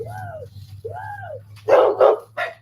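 Dogs barking close by in a domestic setting, several loud rough barks in quick succession following two rising and falling whine-like calls, over a low steady hum.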